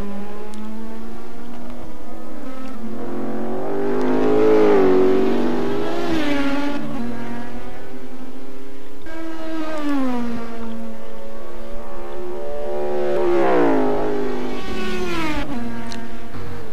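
Racing car engine in a video game on a qualifying lap at Mount Panorama Bathurst, loud continuous howl rising and falling through repeated gear changes and revs, with no talking.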